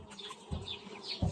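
Honeybees buzzing around a hive colony in mild weather, a steady close hum with brief low thumps, no speech.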